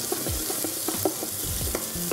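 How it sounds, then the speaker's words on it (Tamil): Onions and tomatoes sizzling and sautéing in a hot pan for a spinach masala, with a steady frying hiss and occasional scrapes of stirring, close up, no talking. "கீரை இதோட வெங்காயம், தக்காளி வந்து இது நல்லா வதங்கணும்."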